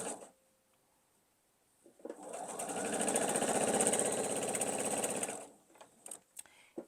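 A sewing machine stitches down the length of diamond-shaped quilt block pieces for a gravity quilt, running in one steady, fairly loud burst of about three seconds between quiet handling noises.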